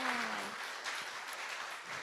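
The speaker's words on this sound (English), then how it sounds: "Let's clap again." An audience applauds at a community talk on the LGBTQ story in Memphis, a soft, steady patter of many hands with a faint voice briefly heard near the start.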